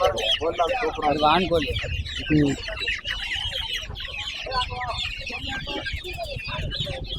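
Chickens, including country and black breeds, cluck and squawk close by in a busy, steady chorus at a market, with people talking over them throughout.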